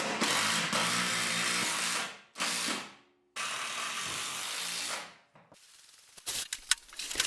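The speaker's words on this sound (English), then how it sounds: "I drill down just deep enough so that the head won't stick up above the floor and run a self-tapper down through that" A drill drives a self-tapping screw down into a mini cabin camper floor in three loud whirring bursts, each winding down at the end, followed by quieter clicks and handling noises.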